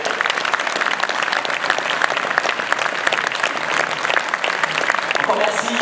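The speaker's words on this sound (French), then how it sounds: "je voudrais qu'à nouveau, nous les applaudissions" Sustained audience applause at a judo league New Year ceremony, dense steady clapping from a large indoor crowd throughout, fairly loud and even.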